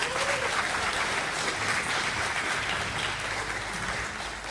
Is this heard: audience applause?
yes